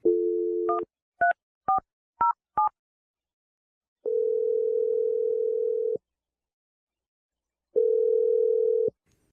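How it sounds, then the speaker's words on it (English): A telephone dial tone hums, then a quick series of five keypad tones beeps in rhythm, followed by two long, steady ringback tones, loud and close on the line. "I'm going to dial the number right now."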